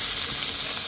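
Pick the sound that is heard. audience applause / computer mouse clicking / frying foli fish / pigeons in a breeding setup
frying foli fish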